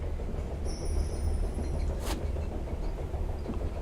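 Train carriage interior in The Charnel House Trilogy, a loud continuous low rumble of rolling wheels with a faint high whine early on and a brief sharp hiss near the middle.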